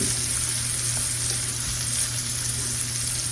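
Onions cooking in a pan give an even, continuous sizzle, close and fairly loud, with no pauses or stirring bursts.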